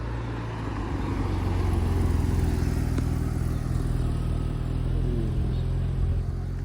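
A Porsche 996 Turbo starts up and rumbles past at a car-spotting meet in Deauville, a steady low engine drone with a faint rise in revs, moderately near and heard alone.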